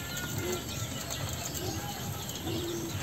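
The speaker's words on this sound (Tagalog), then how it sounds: "May mga alaga din ako ditong emerald dove." An emerald dove flaps its wings in a steady, soft fluttering, with a few faint chirps and low background noise mixed in.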